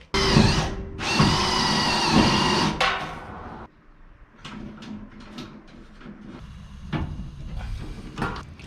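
Power drill whines in short loud bursts into the body of a 1977 Datsun, followed by quieter clicks and knocks from setting rivet nuts by hand, all close up with no talking.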